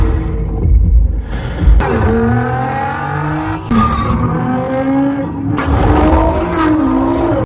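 Race cars roar through a qualifying race, engines revving up and shifting in rising and falling tones as several cars pass close and loud, one after another.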